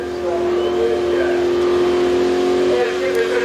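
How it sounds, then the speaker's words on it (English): Ford Cleveland-engined car at the Summernats burnout competition, a loud sustained engine roar and revving with a constant tonal drone, heard alongside an announcer talking over it. "Mal and Kim Baker from Blacktown in Sydney built the engine in this car"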